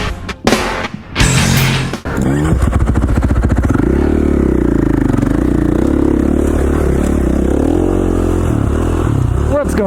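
Dirt bike motorcycle riding a snowy single-track trail near Rabbit Creek, Idaho, its engine droning and revving steadily up close with some clatter, after a few brief bursts at the start.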